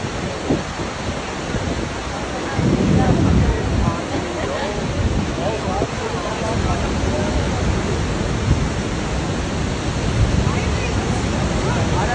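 Niagara Falls in Canada roars as a constant, loud wash of rushing water close to the listener, heavy and steady throughout, with wind buffeting the microphone and voices talking at times over it.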